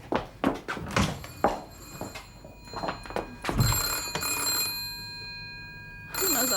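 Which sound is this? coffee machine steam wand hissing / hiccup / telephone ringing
telephone ringing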